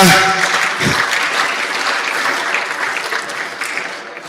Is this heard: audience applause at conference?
yes